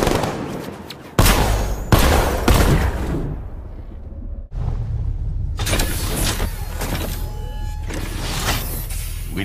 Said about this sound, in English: Cannon operational. Riot suppressor engaged.